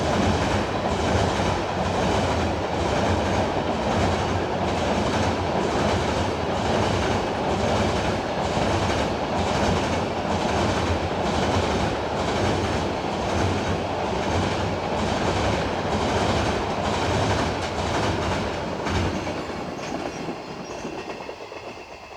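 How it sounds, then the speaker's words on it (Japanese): Freight train 1053 bound for Fukuoka Freight Terminal rolls past at night on the Kagoshima Main Line near Kitakyushu Freight Terminal, a steady loud rumble with rhythmic clickety-clack of wagon wheels throughout, easing slightly at the end. "1053列車福岡貨物ターミナル行きです。"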